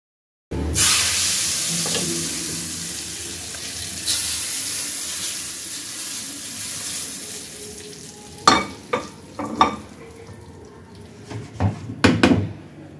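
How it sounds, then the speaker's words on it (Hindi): Hot baghar tempering poured into chana dal for dhaba-style dal fry, a loud steady sizzle and frying hiss that sets in abruptly, with sharper clatters and stirring bursts near the end. "हमारा बघार तैयार हो गया है और अब मैं इसको दाल में डाल दूँगी"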